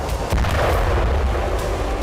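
Large explosion in Crimea sending a fireball into the sky, a deep rumbling blast with a sharp onset followed by a sustained roaring low boom, loud and heavy throughout.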